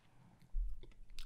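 A crisp bite into a strawberry dipped in strawberry-flavored milk chocolate, close and clear: a quiet moment, then one crunchy snap followed by a few wet chewing crackles.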